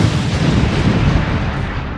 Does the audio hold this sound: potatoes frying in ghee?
no